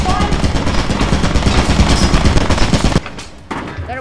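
Rapid, loud bursts of automatic turret fire in a slime-themed video game, a dense continuous rattle for about three seconds that cuts off abruptly, followed by a quieter final burst.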